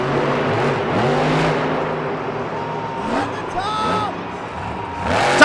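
Maximum Destruction monster truck engine revving at a Monster Jam freestyle in Houston, loud and close with rising and falling pitch sweeps, backed by arena crowd noise and overlapping commentary.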